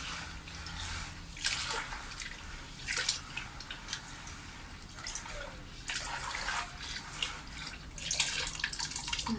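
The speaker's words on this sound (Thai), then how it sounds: "ล้างจนทรายสะอาดนะคะ" Sand being washed in water by hand ahead of planting bulbs, with steady sloshing and splashing that rises in repeated bursts, close and moderately loud, with no voices.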